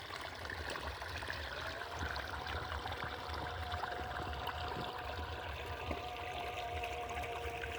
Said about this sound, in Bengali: দেখো এইখান থেকে কেমনভাবে জল যাচ্ছে